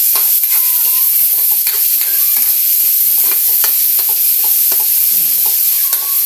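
Pork pieces fry in a pan until browned, a loud, close, unbroken sizzle with spatula stirring scrapes throughout.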